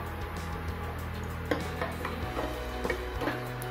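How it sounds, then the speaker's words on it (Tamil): Whole spices dropped into hot oil for cucumber rice, a soft sizzle with scattered crackles and small clinks of utensils against the pan, fairly quiet and close, with no talking. "நான் வாசனை பொருட்கள் எல்லாம் போட்டுடுறேன். ஃப்ரை ஆகட்டும்."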